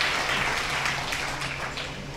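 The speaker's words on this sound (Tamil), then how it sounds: "நீங்கள் எல்லாரும் சேர்ந்து ஒரு கைத்தட்டு தட்டிட்டிங்கன்னா அதை நான் வணக்கம்னு எடுப்பேன்" A large audience at a book festival event claps together in a steady, dense burst of applause that fills the room at close range, with no speech over it.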